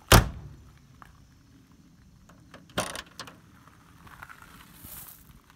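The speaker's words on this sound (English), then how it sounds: "Now these doors open and shut, they're really nice." Doors on a 1970 Chevelle SS454 LS6 produce a loud, close solid thunk at the start and another latch clunk midway, with faint handling and mechanical noises in between and no talking.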